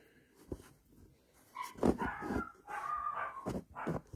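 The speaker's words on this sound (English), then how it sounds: "my dogs are going mad downstairs. There's nothing there. They're just barking at nothing." Dogs bark from downstairs in a house, a few muffled, slightly distant woofs and yips in irregular bursts, fairly faint and with no talking.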